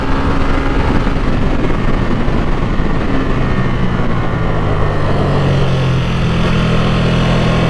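A 2023 Ducati Streetfighter V2 middleweight naked motorcycle's engine drones loud and close while cornering, its pitch slowly rising and settling, with steady wind rush underneath.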